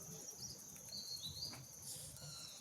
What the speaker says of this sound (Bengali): দূরে পাখিদের কিচিমিচি ডাক